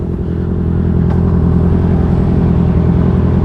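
A 2018 Honda CB650F with a 2.5-inch slip-on exhaust pulls hard in second gear, a loud, continuous buzzing engine roar that builds slightly as the bike accelerates, heard up close with no talking.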